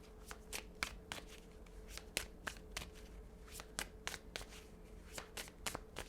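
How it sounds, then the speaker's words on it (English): Tarot cards are shuffled by hand in a quiet room, giving close, crisp riffles and soft slaps that come in quick uneven bursts for about six seconds, with no talking. "I'm going to shuffle and pull the next three"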